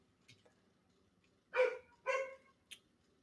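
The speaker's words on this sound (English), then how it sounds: "I apologize for my neighbor's dog." A neighbour's dog barks from a distance, two strong barks about half a second apart followed by a brief quieter yip, heard alone against a faint background hum.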